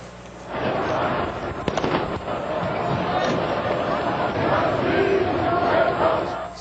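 Tear gas canisters pop amid a protest outside Parliament, with one sharp burst standing out over the constant roar and babble of the crowd.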